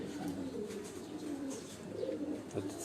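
Breeder pigeons coo on a rooftop loft in a steady, low, overlapping murmur that carries on throughout, close and moderately loud.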